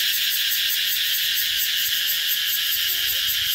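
Cicadas, as found near a pagoda in Vietnam, give a dense, steady high-pitched buzzing drone that holds without pause throughout, loud and unbroken, with no talking.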